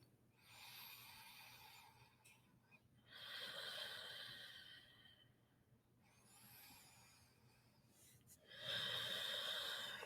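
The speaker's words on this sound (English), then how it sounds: "And just breathe." Slow, deep breaths from a person lying in a supine yoga twist, with several soft, airy inhales and exhales rising and falling in a quiet room.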